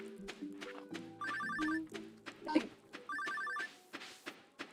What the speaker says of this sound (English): To answer the dang phone so it'll stop ringing.